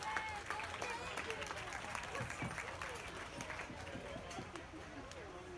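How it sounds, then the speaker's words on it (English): Audience applause at a youth swine show, a steady patter of many hands clapping in a large hall, moderately distant, with a voice and scattered crowd noise over it. "Let's give these kids a nice round of applause."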